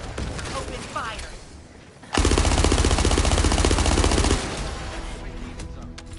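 Machine gun fire in a video game, a loud, rapid continuous burst lasting about two seconds, preceded by quieter game sounds and trailing into lower background noise.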